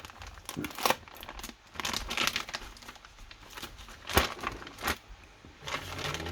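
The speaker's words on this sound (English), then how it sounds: "let's open the plastic bag." Crinkling and rustling plastic as the bag from a Tamiya HKS Mercedes CLK model car kit is handled and pulled open, with scattered sharp crackles and tearing sounds, close and fairly quiet.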